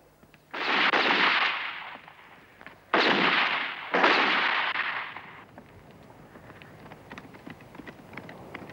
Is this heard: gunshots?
yes